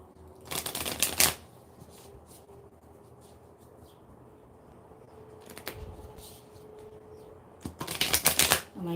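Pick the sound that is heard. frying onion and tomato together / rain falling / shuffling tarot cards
shuffling tarot cards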